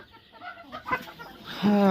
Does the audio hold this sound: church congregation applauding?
no